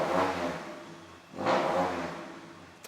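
A car engine with a blue-smoke exhaust fault revs twice, rising and falling, the second rev stronger, close by with no voices.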